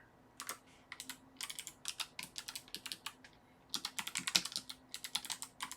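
Rapid bursts of clacking on a computer keyboard, near and fairly quiet, with short pauses between clusters of keystrokes and no talk.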